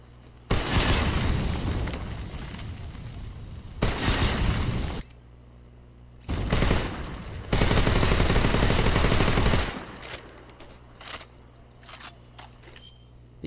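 Soviet assault rifle fire in the video game Metal Gear Solid 3: several loud sustained automatic bursts, each lasting one to two seconds, separated by brief pauses and followed by scattered single shots and clatter.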